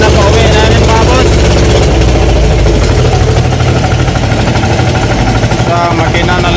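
Boat engine on a tuna fishing trip running steadily the whole way home after the fishing line broke, a loud continuous drone with wind and water noise around it.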